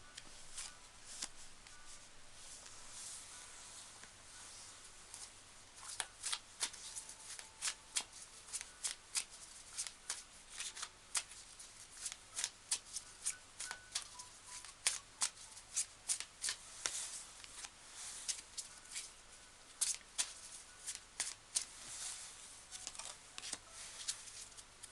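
Tarot cards are shuffled up close in quiet surroundings, quick riffles and soft flicks coming in bursts of crisp clicks, faint at first and busier later.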